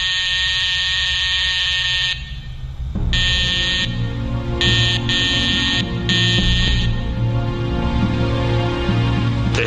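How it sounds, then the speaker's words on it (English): A patient's bedside alarm on a hospital ward buzzes loudly and steadily, breaking off and restarting in several on-off bursts with no talk over it. "They have an alarm next to their bed, and they were using this alarm each 5 or 10 minutes."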